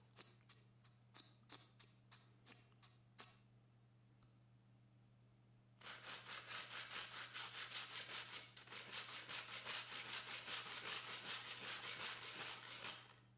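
A diamond dressing block rubbed back and forth over a wet bench whetstone, first a few sharp separate scrapes, then a steady run of close, rhythmic gritty strokes that grows louder toward the end.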